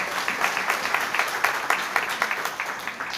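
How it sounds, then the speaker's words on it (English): Audience applause at a LifeVantage special event at SM City Cebu, honoring Pro 1 distributors; moderate, steady clapping from a crowd with irregular sharper claps, continuous for a few seconds. "Let's give a big round of applause for our Pro 1s."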